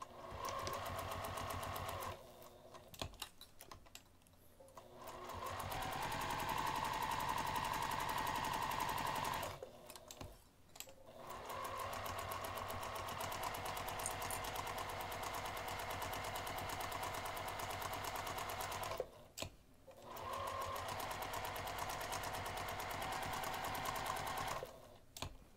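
A sewing machine stitches a quarter-inch seam in fabric for a craft bag, running in long steady rattling bursts broken by brief pauses, close and loud with no talking.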